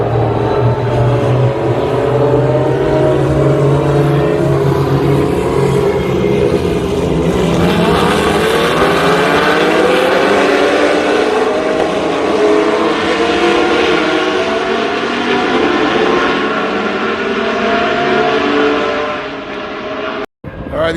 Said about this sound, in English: Oh yeah, these look like F1 cars.